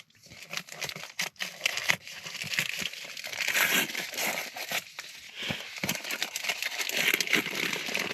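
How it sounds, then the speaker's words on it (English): A Christmas present unwrapped outdoors on a wild camp in the Brecon Beacons, paper crinkling, rustling and tearing in close, busy bursts with brief pauses, loud and continuous throughout. "let's cut to the chase and open up this present"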